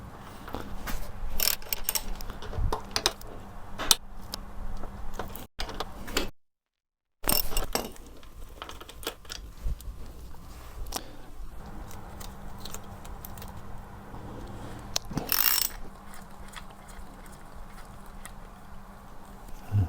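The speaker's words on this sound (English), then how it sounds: "I have to take the footrest hanger off in order to get behind to get the gear lever off" Hand tools work loose the footrest hanger on a Yamaha TZR 250 (3XV) motorcycle during a rebuild, giving intermittent metallic clinks, taps and ratchety handling noises close by, with a brief silent gap and no talking.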